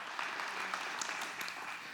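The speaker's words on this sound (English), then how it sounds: "Give him a round of applause, please." Audience applause at a Father's Day 2019 gathering: dense, even clapping from many hands that fills the whole two seconds at a steady, moderate level.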